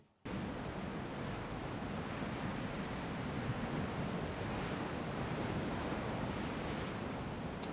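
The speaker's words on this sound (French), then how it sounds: "avec des mouvements de vagues plus variés et moins continus comme la première piste" Continuous ocean surf rushes and washes steadily, a dense, even roar of breaking waves with no voices, cutting in abruptly at the start.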